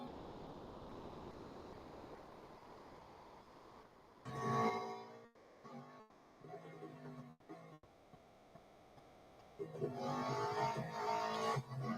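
Aston Martin Vantage GTE 2018 race car in the video game Real Racing 3, engine roaring and fading in bursts over steady road and wind noise, with louder passes near the start and end.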